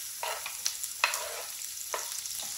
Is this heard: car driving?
no